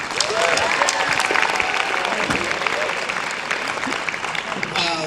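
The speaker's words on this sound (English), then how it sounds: "Let's give him a round of applause" Applause from a symposium audience for a professor and longtime supporter, dense, steady clapping filling the whole stretch, with faint voices and a few cheers mixed in.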